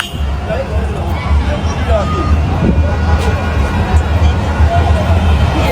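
A large outdoor crowd gathers and moves along to accompany the president, making a steady close hubbub of many voices with a low rumble underneath and scattered shouts and chatter.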